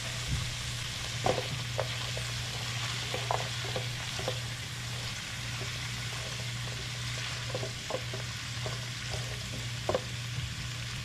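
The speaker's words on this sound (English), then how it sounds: "Gonna put some garlic in." Garlic frying in a pan for egg roll in a bowl, a steady close sizzle with scattered sharp crackles and pops over a low constant hum.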